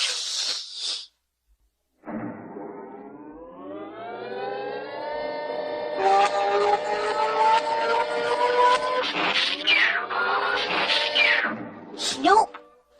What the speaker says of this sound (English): I must have stepped on the cat.